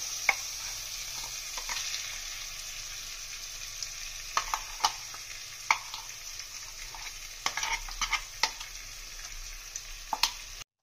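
A lentil paste filling for radhaballavi fries in a pan under a steady sizzle, with repeated sharp scraping knocks of a spoon as it is stirred.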